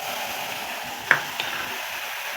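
Onion paste dropped into hot oil with cumin and black cumin for a snakehead fish curry, giving a steady close sizzle, a sharp stirring knock and a softer second clack.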